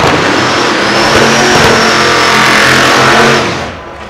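A Ford Mustang drag race car launches and accelerates down the strip at a radial versus modified drag racing event, a loud, roaring engine rising in pitch for several seconds before fading as it pulls away.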